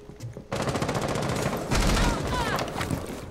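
Automatic gunfire rattles in a team deathmatch round of Rainbow Six Siege, a loud, dense burst lasting nearly three seconds after a brief quieter moment, close and harsh.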